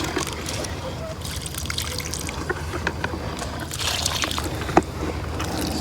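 Aged rainwater poured onto a planted raised garden bed, a soft continuous trickle and splash at close range, steady for several seconds with a few small drips and knocks.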